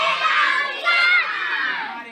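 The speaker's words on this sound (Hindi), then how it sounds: "तालियां होंगी" Children at a primary school quiz game in Salihabhantha, Mahasamund, Chhattisgarh cheer and shout together in a loud, sustained burst that swells midway and then eases off, with the voices close and filling the room.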